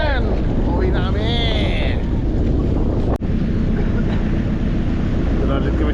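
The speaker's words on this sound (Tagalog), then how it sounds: "May hangin." Wind buffets a boat at sea, a constant loud roaring rush over the microphone. A voice calls out briefly partway through.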